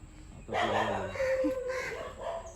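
Chickens clucking and calling nearby, with a few short throaty bursts over a steady outdoor background.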